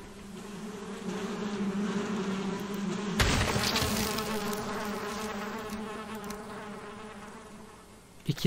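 Bees swarm around a beehive in the video game Valheim with a steady, dense buzzing drone that continues throughout, joined by a brief brighter rustle partway through and a small knock at the end.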